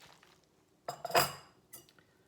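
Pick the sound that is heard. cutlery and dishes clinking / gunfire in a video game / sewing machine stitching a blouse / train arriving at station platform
cutlery and dishes clinking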